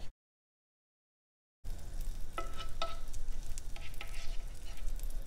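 Butter sizzles in a heated pan for an omelette: after a short silence, a steady close crackling hiss starts and holds, with a few sharper pops and spits. No one speaks.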